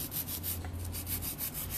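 An electric nail drill files nails with a steady, even buzzing grind, loud and close, held throughout with faint rhythmic pulses and no talking.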